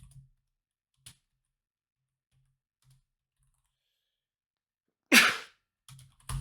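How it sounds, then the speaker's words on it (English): A single sharp, close sneeze bursts out of near silence, with a few faint keyboard clicks and taps scattered before and after it. "I'm gonna sneeze."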